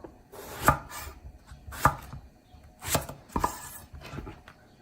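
A knife chops eggplant on a cutting board for a cold soup, giving four or five crisp, evenly spaced knocks close up in a quiet kitchen with no voices.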